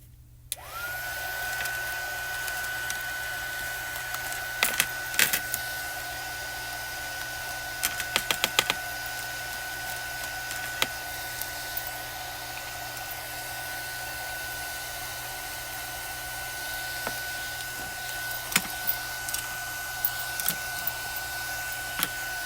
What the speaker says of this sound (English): we want to let our heat tool heat up a second